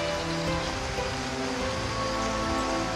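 Heavy rain pours steadily onto leaves and bromeliads in a tropical Costa Rican forest during the wet season, a dense, even wash of drops with no voices.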